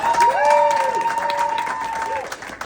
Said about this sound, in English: I'd like to give a round of applause to Natalie for running such a fantastic even